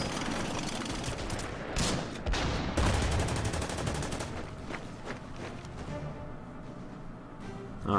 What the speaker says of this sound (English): Let's get a free shot from the MG Foxhole.